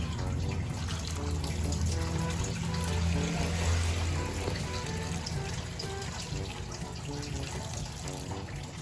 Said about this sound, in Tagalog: Ngayon naman po ay lalagyan na po natin sila ng tubig.